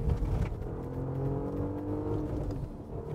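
A VW Golf GTI VR6 revs and accelerates on a fast lap with a close, rising engine whine that holds steadily for a few seconds.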